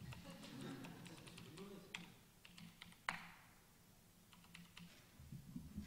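Someone types on a computer keyboard at a C++ conference, the keys clicking in quick irregular bursts with a sharper clack partway through, faint and close, under a low murmur of voices.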